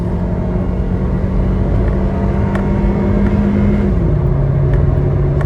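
Engine of a 2008 Toyota Altis 1.6 tuned for E20 fuel, a loud steady rumbling drone at constant level with a tone that dips slightly near the end, alone and up close.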